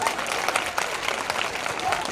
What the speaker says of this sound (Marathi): पुन्हा एकदा टाळ्या वाजवा